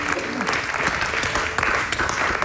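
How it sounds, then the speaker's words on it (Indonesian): A seated audience at a Javanese–Sundanese cultural evening breaks into dense, continuous applause, many hands clapping loudly and close for a couple of seconds with a faint crowd murmur beneath. "Tepuk tangan"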